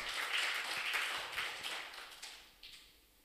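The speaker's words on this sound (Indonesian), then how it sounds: "Tepuk tangan bagi nama Tuhan" A church congregation at a Sunday worship service claps hands together, a dense patter of many overlapping claps that is fairly loud at first and gradually fades.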